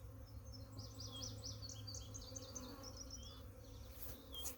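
Carniolan honey bees buzz around a new hive outdoors, a low steady drone with a few birds chirping faintly overhead.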